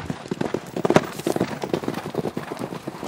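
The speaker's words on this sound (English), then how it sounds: "Get that horse moving, Tot." Horse hooves clip-clop in a quick, uneven rhythm close by, with people shouting in the background.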